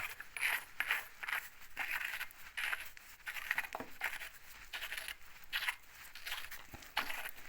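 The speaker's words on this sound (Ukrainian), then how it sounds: "Тако ставлю гайку, піджимаю." A nut is tightened by hand on an MTZ-80 tractor, producing a continuous run of quiet, close, rapid metallic clicks and scrapes with no voices.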